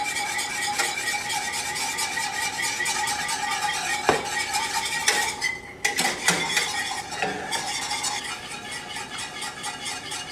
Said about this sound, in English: add in a little bit of Wonder flour, and I'll keep stirring it until it's nice and thick